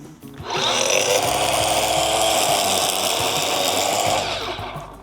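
A Bosch UniversalGrassCut 18V-26 cordless grass trimmer cutting grass, spinning up after a short pause into a steady, fairly quiet high whine with buzzy line-on-grass texture, holding for about four seconds before beginning to wind down.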